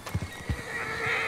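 A horse in the Red Dead Redemption 2 video game gives a loud, close whinny over a few quick clopping hoofbeats, with an ambient game backdrop continuing behind it.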